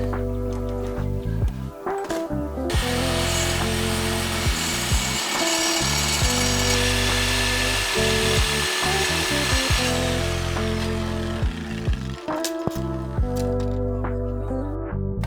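A Sawzall reciprocating saw cuts during work on a C10 truck lowering kit, making a loud continuous buzzing roar with shifting pitch that runs throughout.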